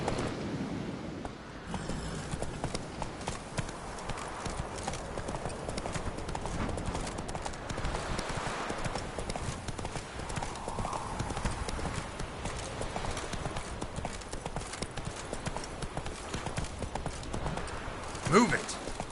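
Roach the horse's hooves clip-clop at a steady walking rhythm through The Witcher 3, continuous and fairly close throughout, with a brief louder knock near the end.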